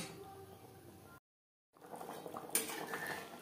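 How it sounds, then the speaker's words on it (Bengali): Fried shol fish being stirred into gravy in a cooking pan, with a cooking mix of green banana; utensil scrapes and clinks of metal against the pan run through, broken by a brief silent gap, then a sharper clink. "গ্রেভির সাথে মাছ বেশ ভালো করে মিক্সড করে দেব।"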